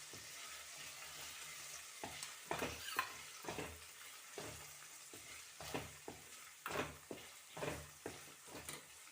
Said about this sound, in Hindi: प्याज को हम हल्का सा सॉफ्ट होने तक सौटे करेंगे।